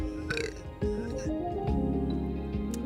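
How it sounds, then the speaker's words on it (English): A big, drawn-out burp from a man on a casual talk stream, close and fairly loud, rumbling over several seconds with a few sharper bursts, over a steady low background hum. "that was a big old burp"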